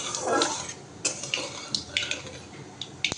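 Whole spices crackle in hot mustard oil over a low flame, a steady close sizzle broken by irregular sharp pops and light clinks of a utensil against the pan.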